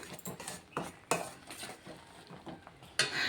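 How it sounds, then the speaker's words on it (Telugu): Cooked gongura leaves mashed with a metal ladle in a pot, a series of irregular scraping clinks and soft squelching knocks at close range, with no talk. "దీన్ని మంచిగా గంటతో ఇట్లా మెత్తుకోవాలి"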